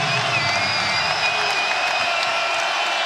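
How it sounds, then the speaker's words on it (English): A basketball arena crowd roars and cheers after a three-pointer at a Kansas versus TCU game, a sustained, loud wall of voices and whoops filling the space from start to end. "finally, a reason for this crowd to get up and cheer"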